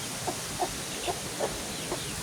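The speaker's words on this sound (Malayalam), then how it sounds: "വലിയ പെടക്കോഴികൾ" Large hens in a village yard, soft clucks at a fairly even pace, about five in a row, heard at a modest distance against a faint hiss.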